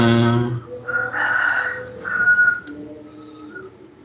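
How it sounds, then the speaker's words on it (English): A chicken, likely a rooster, crows loudly near the start with a strong harmonic call, then quieter mixed background sounds follow with no speech. "I can hear the chicken sound, right?"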